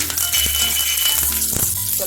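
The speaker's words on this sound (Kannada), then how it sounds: "ಒಗ್ಗರಣೆಗೆ ಎಣ್ಣೆ ಕಾದಿದೆ. ಈಗ ಸ್ವಲ್ಪ ಸಾಸಿವೆ ಹಾಕ್ತಾ ಇದ್ದೀನಿ, ಸ್ವಲ್ಪ ಜೀರಿಗೆ, ಕರಿಬೇವು ಹಾಕ್ತಾ ಇದ್ದೀನಿ" Mustard seeds, cumin and curry leaves hitting hot oil for a South Indian tempering, giving a loud, close crackling sizzle with sharp pops and spatters over about two seconds.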